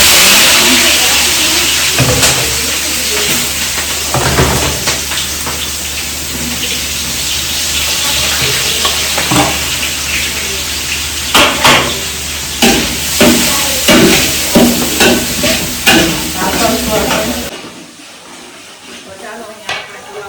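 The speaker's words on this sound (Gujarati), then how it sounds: "તો ચાલો, અત્યારે હવે આપણે પુલાવનો વઘાર કરી લઈએ છીએ" Vegetables frying in hot oil as the tempering for a large pot of pulao, a steady broadband sizzle with scattered clanks and scrapes of stirring, cutting off abruptly near the end.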